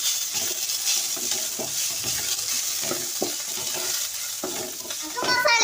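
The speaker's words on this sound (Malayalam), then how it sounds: "ഇനി നമുക്ക് ഒന്നും കൂടി ഇളക്കി കൊടുക്കാം." Cooked curry stirred in a hot pan: continuous sizzling with repeated scraping spoon strokes at an uneven rhythm, close and fairly loud, ending with a brighter clatter.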